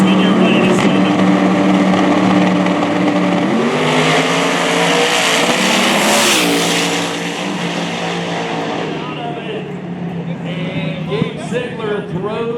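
Drag racing cars launch with loud engine roar at Lake Cumberland Dragway during a small tire race, the engines rising steadily and sweeping past before fading, with a commentator talking over them.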